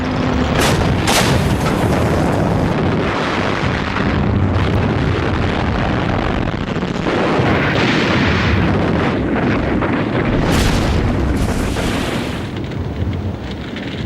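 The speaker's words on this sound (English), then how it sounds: "Operation Crusader, as it was called, started with a lengthy armoured dogfight." Desert tank battle in North Africa during Operation Crusader, with loud booming artillery fire and explosions rolling over a constant roar and wind-like rumble, several sharp blasts standing out.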